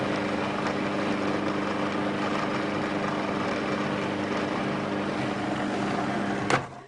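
A food processor purees a vegan faux gras pâté mixture, giving a steady, loud motor whir close by that runs without a break and cuts off just before the end.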